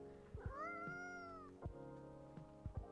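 A cat in the video game Coffee Talk 2 lets out a clear, drawn-out meow, alone and fairly soft, with a few low thumps around it.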